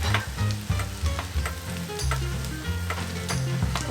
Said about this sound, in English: once we've got our okonomiyaki cooking, we're just going to take slices of the pork and lay it across the top